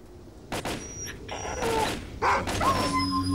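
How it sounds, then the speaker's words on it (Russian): Dog barking in the video game S.T.A.L.K.E.R.: Call of Pripyat, a few sharp yipping barks and whimpers spread across a short stretch, moderately close against quiet game ambience. "А, собака"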